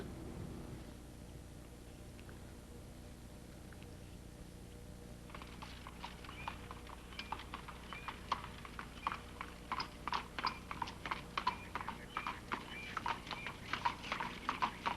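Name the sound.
horse-drawn carriage ride, hooves clip-clopping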